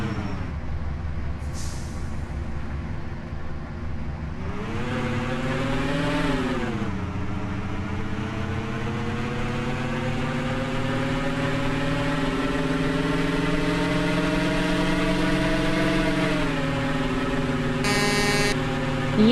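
A truck engine drives steadily in a motor depot setting, a loud, sustained drone that rises and falls with gear changes and a brief revving swell, heard close with no talking.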